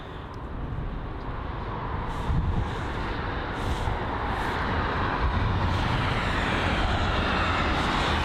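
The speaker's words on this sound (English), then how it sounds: "American Airlines landing on runway 27 left going rogue" An American Airlines jet landing on Heathrow's runway 27 left, a broad steady engine roar that swells slightly and holds, heard from a distance against airport background noise.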